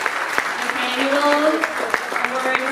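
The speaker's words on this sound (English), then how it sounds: "Big applause for these young people." An audience at a film festival awards ceremony claps in a brisk, scattered patter, close and fairly loud, with a voice speaking over the applause.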